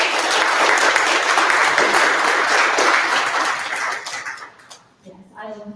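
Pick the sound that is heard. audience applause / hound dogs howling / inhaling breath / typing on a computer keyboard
audience applause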